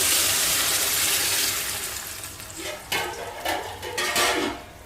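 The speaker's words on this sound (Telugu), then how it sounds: "ఇప్పుడైతే వాటర్ పోసేస్తున్నాను." Water being poured into a cooking pot for upma, a steady rushing stream that eases off, followed by a few splashing pulses and light clatter of the pot, close by with no speech.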